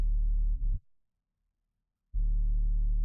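Two sustained synth tones in a music production, a deep sub bass and a mid tone, play together, stop abruptly into near silence, then return loud and steady after about a second.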